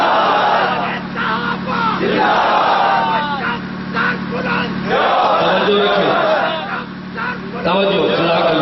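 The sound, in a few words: crowd chanting slogans at a religious gathering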